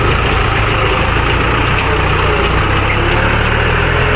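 A tractor engine runs steadily and loudly up close while stuck during loading of lake soil, a constant low rumble at idle with no change in pitch.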